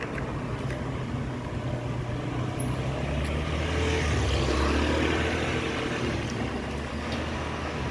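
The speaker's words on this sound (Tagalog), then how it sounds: "Oops, may lalabas na sasakyan." A car pulls out from a gate, its engine a steady close-range hum that swells toward the middle and then holds on, with no voices over it.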